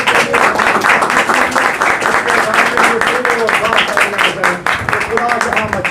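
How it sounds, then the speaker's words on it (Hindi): Loud, sustained applause from a church congregation at an Urdu sermon, dense clapping filling the whole stretch without a break, with a voice calling over it. "खुदावंद के कलाम के लिए जोरदार तालियां बजाएं।"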